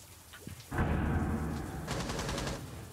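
Gunfire in the video game Rainbow Six Siege: a rapid automatic burst erupts suddenly and rattles on for about two seconds, loud and dense, fading slightly toward the end.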